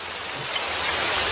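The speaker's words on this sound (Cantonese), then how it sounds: "落雨啦， 開始梅雨季節啦。" Heavy rain pours down at the start of the plum rain season, a loud dense steady hiss with no break and no voices.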